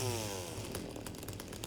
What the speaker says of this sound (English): I have a chainsaw.